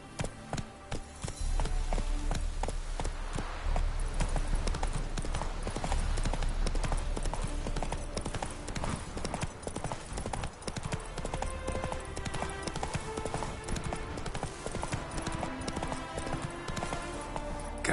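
A ridden horse's hooves clip-clop steadily and fairly close for the whole stretch, heard over loud, dense background music.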